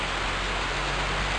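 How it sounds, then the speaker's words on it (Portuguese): Steady rain falls in sunshine as an even, unbroken hiss of drops, fairly loud and continuous with no voices. "Chuva com sol"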